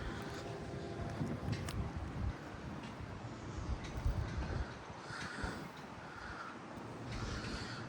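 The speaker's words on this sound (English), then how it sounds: "We have an eastbound CPKC freight train coming towards this crossing." Eastbound CPKC freight train with CP 7056 and KCS 4687 passing the Birch Ave crossing in Maple Lake, MN, a steady heavy rumble with wheel and rail noise, wind buffeting the microphone and faint higher tones throughout.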